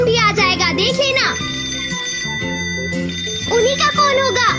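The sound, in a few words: telephone ringing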